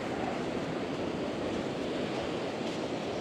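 Continuous roar of big surf on Runkerry Beach, broad rushing sea noise with wind mixed in, steady and fairly soft, no voices.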